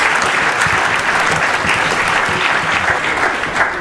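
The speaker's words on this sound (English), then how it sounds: "And give yourself a round of applause." A live show audience in Atlanta applauds steadily, with dense, sustained clapping that stays loud and even from start to finish with no talk over it.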